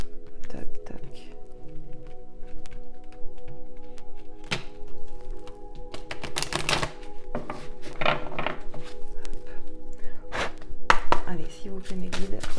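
Oracle cards being shuffled close up, with repeated crisp taps and riffling slaps of card stock over a soft steady hum, a person whispering and speaking quietly in between.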